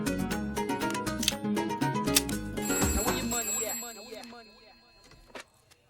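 Telephone ringing on an outgoing call in a comedy scene, a bright repeated ring mixed with music and voices that fades to quieter sounds near the end.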